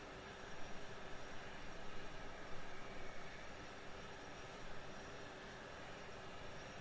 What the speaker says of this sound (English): we're going to get right engine start followed by left engine start